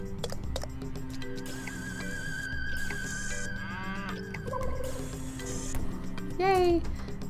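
Cartoonish cow moos from a farm-capture video game rise and fall repeatedly over a steady game music bed, with a brighter, sliding call near the end.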